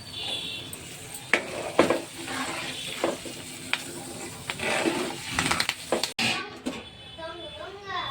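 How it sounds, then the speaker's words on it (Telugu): Tempering spices and dried red chilies crackle and sizzle in hot oil, then curry leaves are added, while a utensil stirs and taps; a voice talks intermittently over the frying. "తాలింపు వేగిన తర్వాత కరివేపాకు వేసుకుందాం"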